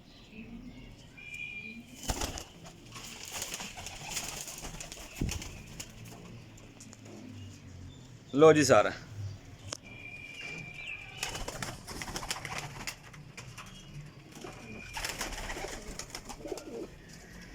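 Kasuri pigeons give soft, low coos at intervals, with a burst of wing flapping near the middle, under an ongoing background hum while someone speaks briefly.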